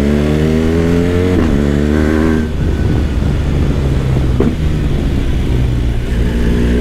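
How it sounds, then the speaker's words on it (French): A motorcycle engine revs hard and accelerates, loud and close, its pitch climbing through several sweeps with brief dips between gear changes, running continuously with no talk. "Franchement, je suis impressionné par la puissance et le dynamisme en fait de cette moto."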